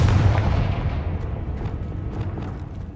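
A Confringo spell blast in the Hogwarts Legacy video game lands as one heavy, booming explosion that hits hard at the start and rumbles away over a few seconds, with faint crackling debris in the tail.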